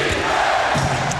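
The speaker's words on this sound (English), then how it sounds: "Chant of defense from this capacity crowd here in New Jersey" Capacity arena crowd in New Jersey chanting during a 2002 NBA Finals game between the Lakers and Nets, a loud, dense roar of many voices filling the space, brief and continuous.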